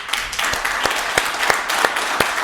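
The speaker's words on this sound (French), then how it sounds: "nous l'applaudissons" A studio audience applauding a guest on a French television show, dense continuous clapping at close range with a few sharper claps standing out, steady throughout.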